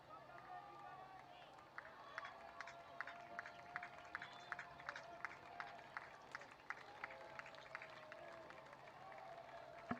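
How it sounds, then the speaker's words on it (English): Portland Sea Dogs fans at a minor league baseball game, a steady crowd murmur under rhythmic clapping that repeats about twice a second, with a voice talking over it. "The Portland fans here cheering on the Red Sox affiliate"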